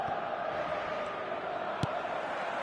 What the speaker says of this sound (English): the crowd's impatience is an indicator that they haven't quite given up on a goal just yet